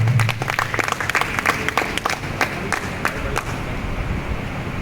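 Steady applause from a crowd filling a hall at a badminton tournament closing ceremony, dense clapping that carries on throughout at a fairly loud level.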